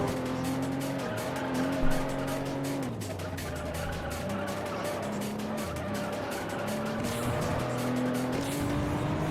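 Race car engine whines steadily through a racing video game, its pitch rising and dropping with gear shifts while tires squeal and skid through corners, loud and continuous without pause.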